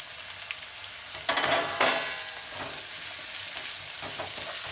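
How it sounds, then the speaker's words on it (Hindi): Mixed vegetables for vegetable Maggi sauté on a high flame, giving a steady close sizzle. A brief louder burst of crackling and clatter comes as chopped tomatoes go in, then quieter frying continues. "अभी करीब 1 मिनट तक सौते कर लेते हैं।"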